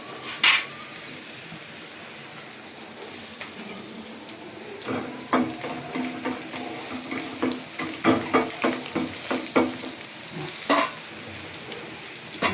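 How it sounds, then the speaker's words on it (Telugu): Tempering for a Telugu lunch: mustard seeds, cumin, curry leaves, green chillies and a few fenugreek seeds hit hot oil, making a close, bright sizzle with sharp popping bursts and stirring clatter throughout. "ఇదిగోండి ఇప్పుడు పోపు పెడతాను"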